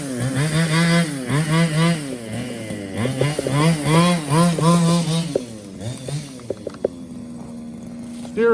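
A 1/5-scale Losi DBXL RC car's 2-stroke engine starts for the first time and buzzes loudly up close in repeated revving surges, then drops to a steady idle with a few sharp pops.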